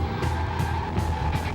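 Race cars at the Mission Valley Speedway roar steadily as a dense, continuous engine drone, with several loud whooshing surges as cars sweep close past.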